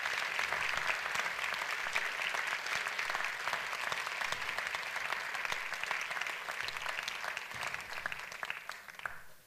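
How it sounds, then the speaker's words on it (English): A round of applause from an audience at an evening piano duet club event, honouring colleagues; steady, moderately faint clapping that tapers off toward the end. "I need you to give them a round of applause."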